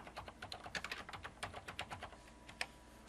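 Rapid clicking of a computer keyboard being typed on, close and steady with uneven bursts of keystrokes, no voices.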